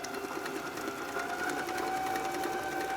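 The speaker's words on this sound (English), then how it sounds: "Now it's absolutely necessary to whisk 10 minutes." Electric mixer whisking eggs at high speed, a loud, steady whirring motor drone with a fixed tone and faint rattle, constant and close throughout.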